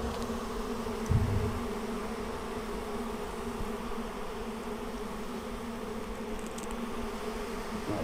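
Bees buzz around a Flow Hive during a hive split outdoors, a steady, moderately loud droning hum from many insects with one brief low thump near the start.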